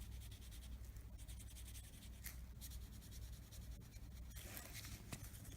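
A Sharpie marker is dabbed onto a fingernail in random blobs of colour for marbled gel nail art, giving a soft, close scratching rub that continues in short strokes.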